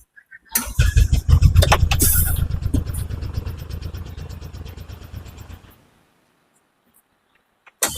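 A Bajaj Maxima X-Wide CNG autorickshaw engine cranks and catches, settling into a close, loud, rapid putter that fades quickly as the engine is switched off, followed by quiet and a faint click at the end.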